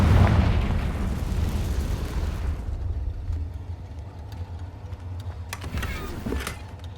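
A Confringo blasting curse detonates in the Hogwarts Legacy video game, a loud, deep explosive boom that rumbles and decays over a few seconds, followed by scattered sharper crackles and debris-like pops.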